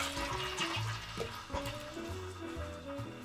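A whole can of coconut milk poured into a pot holding coconut oil, a close liquid glug and splash with sizzling, bubbling spatter, moderately loud, with no talking.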